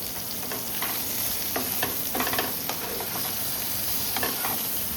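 Pointed gourd and soybean frying in oil in a pan, a constant bright sizzle with repeated scraping strokes of stirring, fairly quiet and with no voices.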